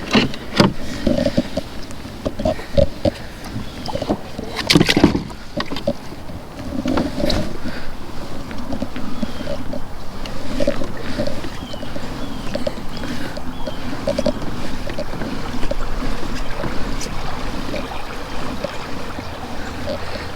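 A 2020 Native Watercraft Slayer Propel 10 pedal-drive kayak moves through water with a steady churning swish and lapping, close and continuous, with occasional knocks and thumps near the start.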